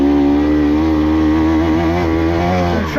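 A 2024 KTM 300XC-W dirt bike with stock gearing revs hard while climbing uphill, giving a loud, steady two-stroke engine drone close by that wavers in pitch throughout.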